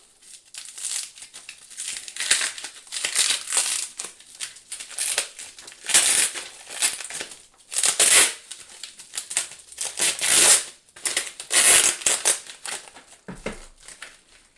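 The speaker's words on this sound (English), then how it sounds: "Now the inside box containing passport will be bubble wrapped, which is bonded to the box itself," Bubble wrap bonded to a passport box is peeled and pulled off by hand, a series of close, loud crinkling and crackling bursts with short pauses between them.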